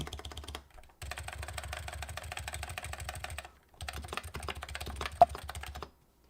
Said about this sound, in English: I'm just typing random shit into my notepad now.